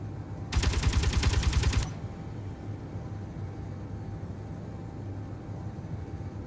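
Rapid automatic gunfire from weapons in the space survival game Space Engineers, a single loud burst of about one and a half seconds that cuts off abruptly over a low ambient hum.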